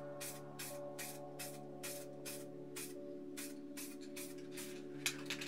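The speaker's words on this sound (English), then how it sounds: "So we'll get in, spray it here towards the lid." Rust-Oleum spray paint can spraying onto spray-paint art, a series of short regular hissing bursts roughly every half second, close and steady, with no talk.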